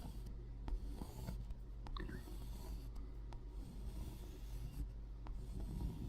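Drawing marks sketch pumpkin sections onto an acrylic painting, a steady soft scratching and rubbing of a tool across the surface, close and quiet, with no talking.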